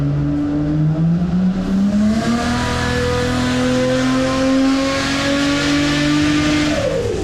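A turbocharged Holden VL sedan runs on a dyno, its engine note loud and steady. The pitch climbs gradually as the revs build, with no one speaking.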